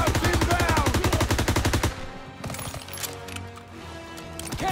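Rapid machine-gun bursts in Call of Duty: WWII, a video game, dominate the first two seconds, then a quieter stretch of scattered game combat sounds follows.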